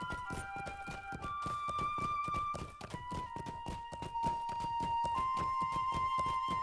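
Pony in the Lord of the Rings Online video game, its hooves clip-clopping in a steady, even walking rhythm, close and distinct, with game music tones held above the footfalls.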